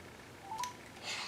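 Telephone keypad tones dialing out to place a call, a short quick sequence of beeps, faint and heard alone.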